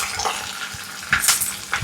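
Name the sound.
dried red chillies, curry leaves and shallots frying in oil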